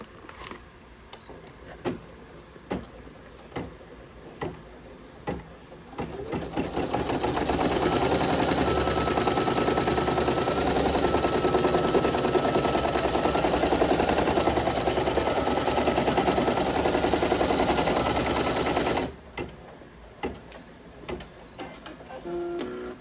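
An in-the-hoop embroidery machine stitches a decorative stitch on faux leather: discrete clicking needle steps, then a long, loud, steady mechanical whir of rapid stitching, then clicks again at the end.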